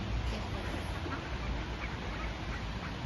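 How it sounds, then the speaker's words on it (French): Hungry ducks waiting to be fed in Ustroń, Poland, quack amid a constant, loud wash of outdoor background noise across the short stretch. "donc on pourra nourrir les canards"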